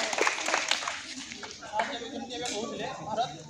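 Students clap at a school Republic Day flag hoisting ceremony, bursts of handclaps strongest at the start, mixed with ongoing speech.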